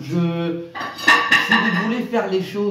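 A cat knocks over dishes and cutlery, which clatter and clank loudly in a quick jumble, with someone speaking over the noise.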